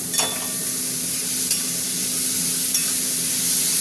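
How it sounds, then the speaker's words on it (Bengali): Carrots and beans frying lightly in oil give off a continuous close sizzle, with a few scraping stirs of a spoon in the pan. "গাজরটা হালকা করে ভেজে নেবো"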